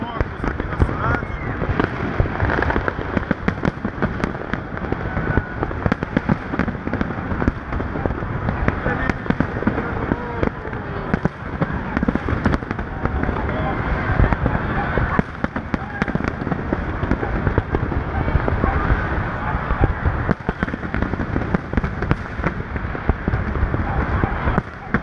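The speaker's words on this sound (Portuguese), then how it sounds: "Chegando em Santos, praia e a queima de fogos aqui na cidade." New Year fireworks burst over the beach at Santos, a dense, loud, continuous run of booms and crackles, with voices faintly mixed into the crowd noise beneath.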